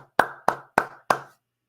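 Four sharp hand claps ring out close and loud at an even, deliberate pace, each with a quick decay, followed by silence and no talk.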